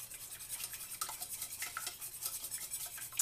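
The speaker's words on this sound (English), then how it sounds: "I'm going to put the eggs in one at a time and mix these up." Eggs are mixed into a batter of flour, nutmeg and butter, a soft, continuous scraping and swishing of a utensil against a bowl that goes on in quick strokes, quiet and close.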